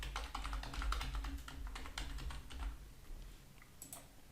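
Quick, irregular keystrokes on a computer keyboard while entering a password during a Proxmox cluster setup, close and fairly quiet, with brief pauses between bursts of taps.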